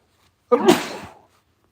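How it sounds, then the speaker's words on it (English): Someone sneezes once, close and sharp, and the sound trails off quickly into silence. "Excuse me, sneeze coming."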